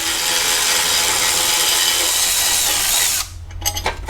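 Power tool whirring steadily as it backs out heat shield bolts on an Audi S4 B8.5 during engine removal, loud and close for about three seconds before cutting off into a few light metallic clicks.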